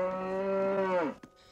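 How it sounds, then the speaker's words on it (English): A cow moos in the 1984 spoof film Top Secret!, a single long, loud, steady low call that falls away at the end, followed by a brief knock-like sound. "It's a cow."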